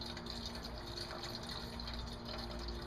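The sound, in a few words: engine coolant draining from Dodge/Jeep/Chrysler 3.7/4.7L engine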